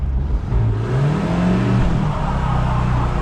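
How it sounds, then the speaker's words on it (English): A vintage Toyota 4Runner revs hard on dry pavement in a burnout attempt, its engine pitch rising and falling under load with a whirring tire spin, loud and close. "It almost wanted to. It spun the tire."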